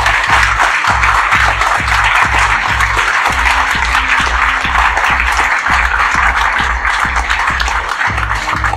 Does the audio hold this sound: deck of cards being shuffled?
no